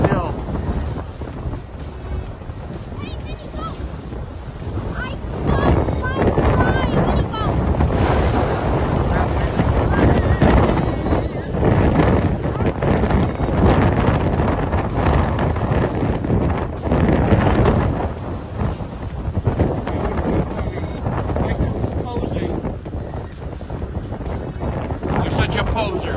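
Strong outdoor wind gusts buffeting the microphone, a continuous loud roaring rumble that swells and stays heavy for the whole stretch.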